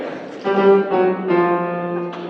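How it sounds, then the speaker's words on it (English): A short orchestral phrase from the Bohemian life motif of Puccini's La Bohème: a few sustained, swelling chords with rhythmic accents, played alone at moderate volume. "Very short, very small snippet of music and rhythm"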